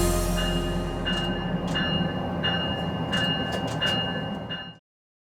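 A University of Colorado A-Line commuter rail train rolls past close by, a loud steady rumble with rhythmic wheel clicks over the rail joints, ending abruptly.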